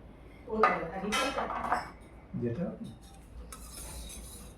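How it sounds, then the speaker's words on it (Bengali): Dal is served onto plates at a dinner table, with spoons and dishes clinking in a few close, light knocks and scrapes, and a voice speaking briefly in between. "ডাল পাতি দিচ্ছি।"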